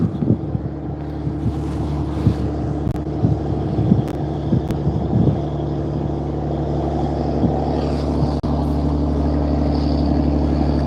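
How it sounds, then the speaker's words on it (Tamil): A fishing boat entering the harbour on a windy day, its engine a steady low drone heard at a distance under constant wind buffeting on the microphone, with no talking. "போட்டு ஒன்று உள்ளே போகுது அதை பார்க்குறீங்களா"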